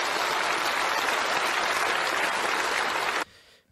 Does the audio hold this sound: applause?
yes